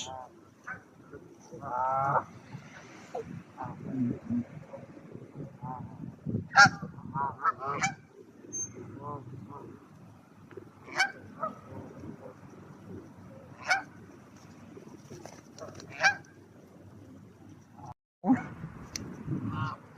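Geese honking in Small Heath Park, Birmingham: repeated harsh calls in irregular bursts, some close and loud, others overlapping, with a steady murmur of park background noise beneath.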